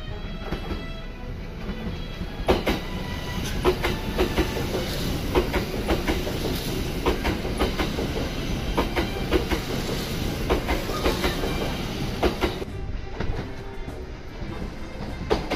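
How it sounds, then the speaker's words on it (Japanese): Shimakaze limited express train passing close by on the Kintetsu line near Ise-Nagashima station, a loud steady rush of wheels and rail clatter lasting throughout, easing off slightly near the end. "いつも恒例の島風通過タイムですね"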